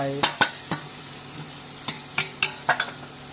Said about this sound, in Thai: แล้ว ก็ผัด ผัดให้ข้าวหอมนะ